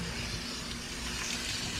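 Water runs from a tap in a steady, close, hissing stream while golden tilefish fillets are rinsed, with no voices.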